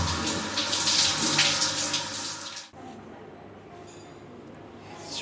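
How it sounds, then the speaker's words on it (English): A cold morning shower runs as a loud, steady hiss of spraying water, then cuts off abruptly, leaving quiet room tone with faint drips and small clinks. "Holy cold shower in the morning."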